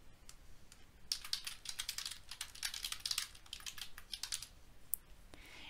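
Fingers type on a computer keyboard while entering data into QuickBooks Online, giving quick bursts of soft, close clicks in irregular runs with short pauses between them.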